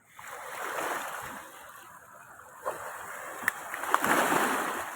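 The Kaveri river in Erode running strongly, a broad rushing wash of water with a few splashes, steady and fairly near.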